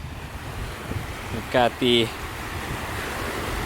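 Ocean surf and wind on a beach by Great Pond on Martha's Vineyard, a steady broad wash with microphone wind rumble, and a voice speaking briefly over it.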